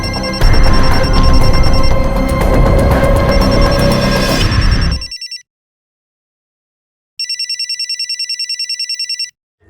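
A mobile phone rings loudly and close amid a busy jumble of sounds, cuts off, and after a silent gap rings again in a clean, rapid repeating burst of electronic tones.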